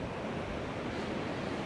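Strong onshore wind at a beach roars as a dense, steady rush of noise, buffeting close to the microphone and mixed with broad surf wash, with no pauses.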